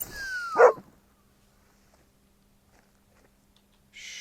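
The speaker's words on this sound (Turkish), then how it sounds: "Bu arada şu köpeğimize bir otur komutu verelim." A hunting dog in theHunter: Call of the Wild gives a single short bark or yelp at the start, followed by near silence.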